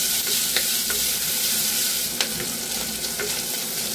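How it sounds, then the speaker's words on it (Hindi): Finely chopped onions sizzle loudly in hot oil while a spoon stirs them, steady frying hiss broken by light scraping taps, with no voices. "प्याज को डालकर अच्छे से हम भूनेंगे।"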